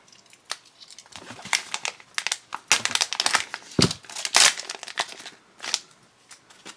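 A knife slices through sealed fan-mail packages, giving a run of close, irregular crinkling and scraping cuts with sharp bursts of tearing packaging and no talk.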